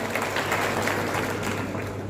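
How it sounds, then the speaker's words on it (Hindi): An audience at a cooperative banking event applauds loudly in a steady, dense wash of clapping, with a low constant hum underneath. "एक बार जोरदार तालियां इसके लिए आ गया"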